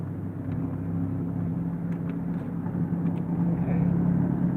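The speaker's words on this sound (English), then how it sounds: "Now, I'm waiting for these cars to go by." Cars passing on a road in Danville, Kentucky, a steady low rumble of traffic that holds through the whole stretch, with a few faint higher-pitched swishes on top and no talk.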